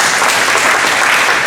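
Dense applause from a crowd, steady hand clapping filling the whole moment without pause.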